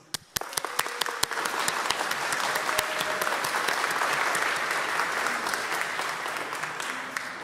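Sustained applause from an audience at a rally, dense steady clapping that swells and holds for several seconds with a few sharper claps standing out near the start.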